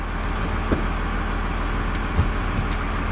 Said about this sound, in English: Ignore that truck in the background.